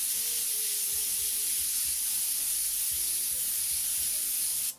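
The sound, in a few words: airbrush spraying transparent blue paint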